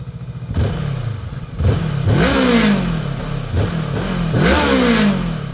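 A Cyclone RC600 motorcycle engine revs close by, with several sharp throttle blips rising and falling over a rough idle, loud and alone.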